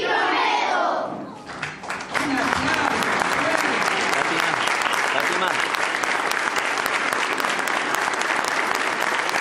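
Loud, sustained applause from a large crowd at a pledge ceremony fills the space after a brief quieter moment, dense steady clapping continuing without pause.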